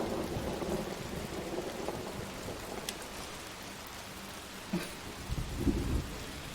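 Steady rain hisses over a fishing camp in Fallout 76, with a sharp thunder crack near the middle and deeper rumbling thunder toward the end; no voices.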